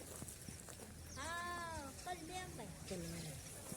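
A goat on a small farm planted with mango trees and fodder grass gives a wavering, drawn-out bleat at mid-distance, followed by shorter cries, with a voice talking nearby.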